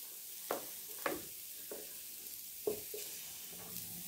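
Plum jam boils in a pot while a spoon stirs it, giving a few scattered scraping and clinking strokes over a quiet bubbling background, close and fairly soft.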